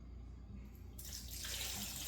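Water from a tap starts running after a short quiet moment and keeps flowing steadily into a container, being added to make a salt and sugar brine for smoked salmon.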